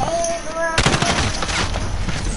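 Rapid automatic gunfire in Call of Duty, loud, dense and close, a continuous burst of shots following a brief electronic tone, with player voices mixed in.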